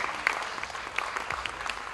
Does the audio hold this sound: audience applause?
yes